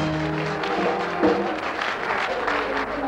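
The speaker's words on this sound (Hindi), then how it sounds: "नहीं बहन, तालियां आहिस्ता बजाओ।" Audience applause at a comedy stage drama, steady clapping from a crowd throughout, fairly loud and continuous.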